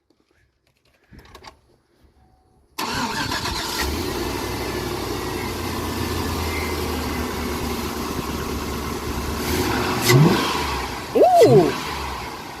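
A 2004 Chevrolet Avalanche engine fitted with a cold air intake fires up after a quiet moment, settles into a steady, loud idle, then revs sharply twice near the end. A brief exclamation is heard early on.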